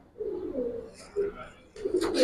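Several pigeons of an old Giribaz breed coo in low, rolling phrases close by, with a few soft rustles and a brief burst of wing or feather noise near the end.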